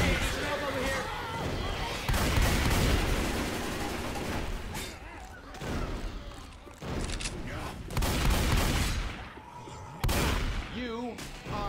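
Game gunfire during a Left 4 Dead 2 zombie fight, uneven bursts of loud shots that start and stop abruptly, mixed with frequent character speech throughout.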